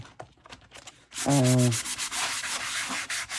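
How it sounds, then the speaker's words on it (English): Shiny junk journal covers get scuffed to dull them, a close, steady rubbing and sanding scrape starting abruptly after a few light taps and continuing in strokes, with a brief tonal squeak at its start. "Some scuffing up to make these a little less shiny."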